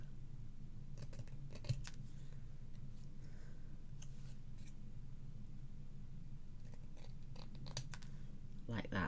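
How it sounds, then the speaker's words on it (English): Scissors trimming the edges of a handmade Stampin' Up card, several short crisp snips in separate bursts, with someone speaking briefly near the end. "just take your scissors and trim as close to the edges as possible"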